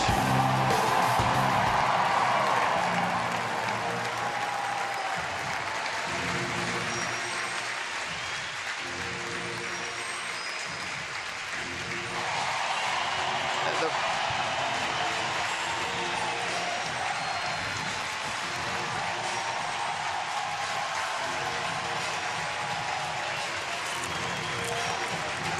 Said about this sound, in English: This crowd has cheered every moment from the time that David first came out for batting practice today